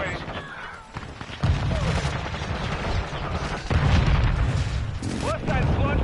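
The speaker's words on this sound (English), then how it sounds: "Friendly airstrike on the way." Airstrike explosions in the Modern Warfare 2 video game, a run of heavy booms and rumbling blasts mixed with gunfire, with shouted battlefield voices in between.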